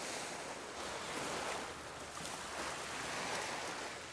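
Steady ocean waves wash and roll on the open sea, a continuous broadband surf roar with gentle swells in intensity, close and loud, with no voices.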